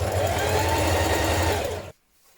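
A sewing machine hems the bottom of a blouse with a steady, close whirring run that stops abruptly near the end, leaving near silence.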